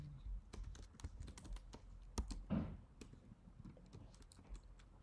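Rapid clicking keystrokes on a computer keyboard while coding, an uneven run of sharp taps up close with no talking.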